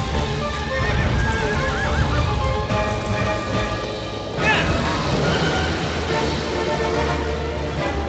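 Hooves clip-clop steadily while a horse whinnies in the video game Shadow of the Colossus, with game-like ambience and a faint background hum.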